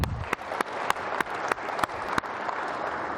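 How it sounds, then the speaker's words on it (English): A MUFON audience applauds in a steady patter of clapping, with a few sharp, louder claps standing out at regular intervals over about three seconds. "give a round of applause for yourselves"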